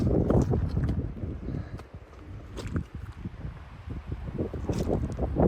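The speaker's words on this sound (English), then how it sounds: "Very windy out here, chilly." Gusty wind in a mountain meadow buffets the microphone with a low, continuous rumble that swells and eases, with faint rustling and footsteps underneath.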